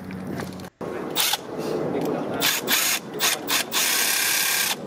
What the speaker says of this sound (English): And now we are removing the first spark plug. We're still using our cordless ratchet.